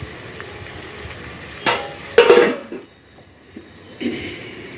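Masala fries in a pan during veg biryani and gongura curry cooking, with a few sharp bursts of sizzling and scraping stirs separated by quieter stretches.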